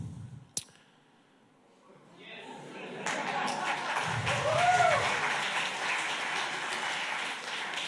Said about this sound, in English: So this applause, I believe that was for the speakers, for all of you.